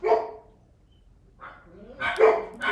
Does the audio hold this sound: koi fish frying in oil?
no